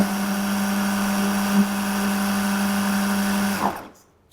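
A food processor whizzes cheesecake ingredients in a loud, steady motor whine with a strong hum, then spins down and stops abruptly near the end, leaving near silence.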